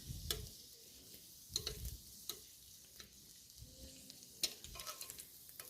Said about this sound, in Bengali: ফ্রেঞ্চ ফ্রাই ভাজছি